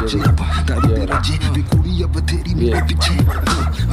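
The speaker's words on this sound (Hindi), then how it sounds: "ये छोटा सा कुत्ता है ये बड़ा कुत्ता है" A small dog and a big dog bark repeatedly at close range in a rapid, overlapping series of sharp yips and deeper woofs, with someone speaking briefly between them.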